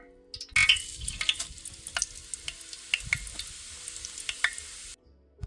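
Cumin seeds, red chilies and asafoetida sizzle in hot oil for a village-style dal palak, a loud crackling burst with scattered pops and stirring clatter that stops abruptly near the end.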